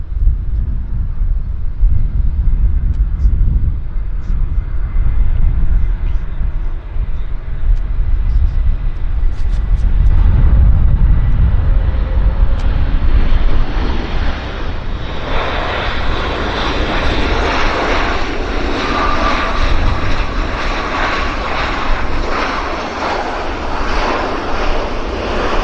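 A Flair Airlines jet inbound from San Francisco arrives at Vancouver airport, with a loud sustained engine roar and low rumble that rises into a brighter whine as it passes.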